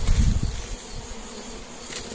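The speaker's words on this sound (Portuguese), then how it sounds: "Quer dizer que é abelha para todo canto, né?" Bees swarm around a wild honey hive being smoked out in the Caatinga scrubland, a dense buzzing drone that is loudest at first, then settles into a steadier, fainter hum.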